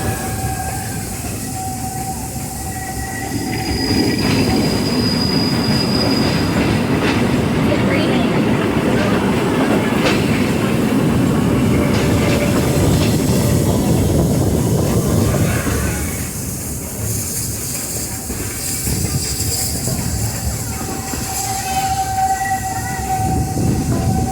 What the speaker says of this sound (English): the rattle and rumble of that old gold mine